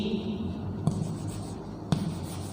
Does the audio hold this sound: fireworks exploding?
no